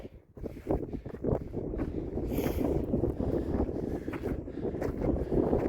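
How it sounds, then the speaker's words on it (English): Strong gusts of mountain wind on a summit ridge above 13,800 feet near Mount Shavano, loud buffeting blasts hitting the microphone in uneven surges. "It's gotten very windy up here"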